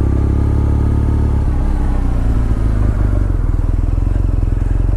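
Engine of a BMW R nineT motorcycle rumbling steadily and loudly during a ride on a sunny day, with a low throbbing pulse throughout and a brief spoken remark over it.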